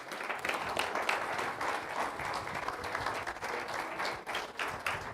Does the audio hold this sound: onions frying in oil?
no